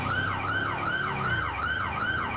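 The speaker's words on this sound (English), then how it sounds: "Stop the ambulance!" An ambulance siren in the FivePD police video game, wailing in a steady rising-and-falling cycle, loud and continuous with no talk.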